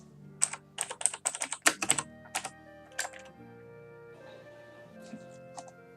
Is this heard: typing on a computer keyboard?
yes